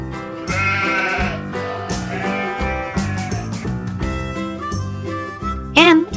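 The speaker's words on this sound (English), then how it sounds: "L is for lamb." A lamb on a farm bleats in a wavering, high cry that rises near the end, over steady background music with no talking.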